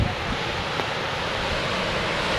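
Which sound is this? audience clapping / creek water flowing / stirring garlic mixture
creek water flowing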